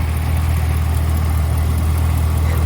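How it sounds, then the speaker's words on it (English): A supercharged LSA V8 in a 2012 Camaro ZL1 with a Rotofab intake idles steadily under the open hood, a loud, even low rumble holding constant with no other sounds. "Supercharged LSA engine,"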